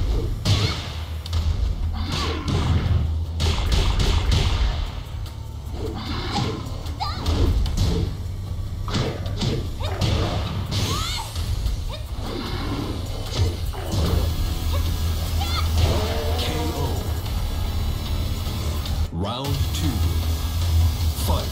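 Tekken 7 fight gameplay: heavy punches and kicks thud and crash in rapid bursts over a pulsing game soundtrack, with character shouts and announcer voice mixed in.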